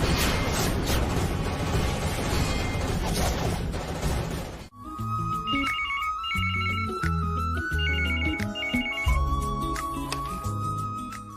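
A telephone ringtone plays alone in a Telugu TV serial scene, a bright repeating electronic melody of short tones following a loud dramatic music burst, clear and close.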